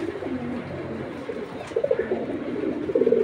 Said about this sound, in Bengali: দুইটা কবুতর অনেক সুন্দর